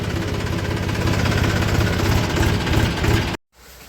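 A farm tractor's engine idles steadily in a sugarcane field, a loud, close, continuous low rumble with faint knocking that runs unbroken for over three seconds before cutting off abruptly near the end.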